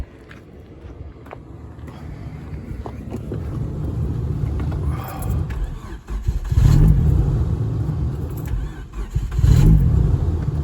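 Hyundai car engine during idle adjustment, a low rumbling idle that rises into two blips of revving before settling back, heard close up with no talk.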